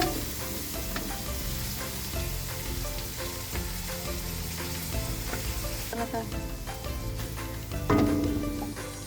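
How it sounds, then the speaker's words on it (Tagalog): Butter sizzling in a pan with garlic and onion, a dense close frying crackle with stirring clinks and a sharper metallic knock near the end, no talk. "Ngayon po ay ilalagay na po ang butter."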